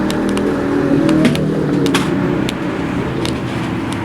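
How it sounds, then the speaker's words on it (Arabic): Small remote-control toy car driving on a ceramic tile floor, a steady whirring motor hum with light rattles and skids, close and continuous with no talk. "العربية ما شاء الله سريعة جدا لدرجة ان هي بقت ايه، اتزحلقت على"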